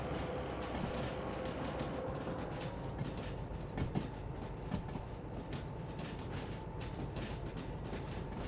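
Train locomotive rolling through a rail yard in the video game Derail Valley, a steady rumbling drone with faint clickety-clack and brief metallic clunks, continuous and fairly close throughout with no talking.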